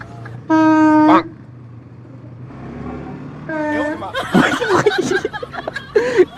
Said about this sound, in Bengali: ট্রেন এসে গেছে ভাই, ট্রেন এসে গেছে ভাই, ট্রেন।